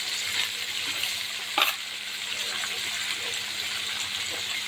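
Pumpkin palya fries and is stirred in a pan with a steady close sizzle and occasional scraping of the spoon, one brief clatter partway through.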